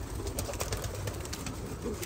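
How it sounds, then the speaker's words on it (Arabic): Collared doves cooing at a bird enclosure, a soft repeated call set against steady noise from the surroundings, with no speech present. "خلي بس نشيك الفخاتي"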